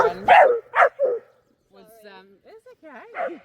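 A dog in a park lets out three quick, loud barks up close, followed by softer whiny yips mixed with people chatting nearby.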